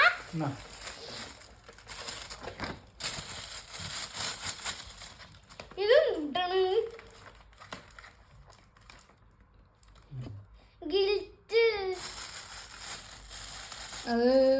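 Birthday gift wrapping torn open by hand, in several bursts of crinkling, ripping paper close by, with pauses and people talking in between.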